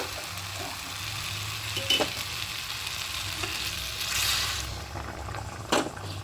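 Hot water added to a pan of well-sautéed masala for spinach chicken with potatoes, a continuous close sizzle with stirring scrapes and a swelling hiss burst partway through.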